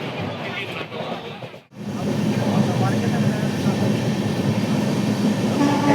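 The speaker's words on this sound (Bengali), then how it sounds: "খুব ঝড়ের গতিতে ট্রেন চলেছে" A passenger train on the Sealdah to Bolpur line rumbles along at high speed, heard from inside as a loud continuous roar that briefly drops away then surges back, with people talking over it.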